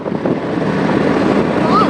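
Wind buffets the microphone during a morning motorcycle ride through green, tree-lined roads toward Karla near Lonavala, a loud continuous rumbling rush.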